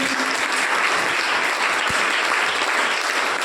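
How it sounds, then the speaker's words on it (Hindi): Audience applause for students at an NCC wing Gandhi Jayanti event, a steady dense crowd clapping that holds at full strength throughout with no pause. "उन सभी छात्राओं के लिए एक बार जोरदार तालियां"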